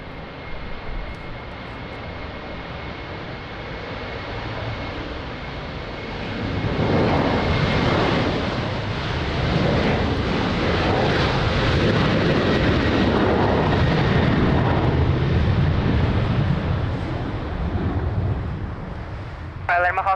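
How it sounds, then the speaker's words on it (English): A Boeing 737 of Air Europa takes off at Lisbon Airport in strong wind, its jet engine roar building from a steady rumble into a loud, broad sustained thunder, with wind buffeting the microphone throughout. "runway 20 cleared for takeoff. Clear for takeoff, runway 20, Europa 1, correction 85, Papa Zulu. So here we go. Air Europa, Boeing 737."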